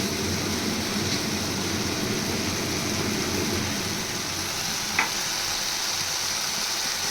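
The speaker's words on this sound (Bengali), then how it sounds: "ভালো করে কষিয়ে নেব যতক্ষণ না কাঁচা গন্ধটা যায় ততক্ষণ কষাতে থাকবো" A spice paste being sautéed in a pan: a dense, continuous sizzle with faint stirring scrapes, close and steady from start to finish, with one small clink near the end and no voices.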